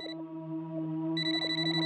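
An electronic phone ringtone plays in repeated tonal bursts, close and steady, with no voices.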